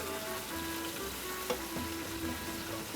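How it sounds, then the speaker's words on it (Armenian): Seasoned food fries in a pan before rice and bulgur are added, a soft, steady sizzle that crackles continuously with a faint stir partway through. "թողնում ենք ինքը տապակվի մի փոքր"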